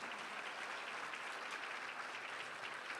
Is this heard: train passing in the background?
no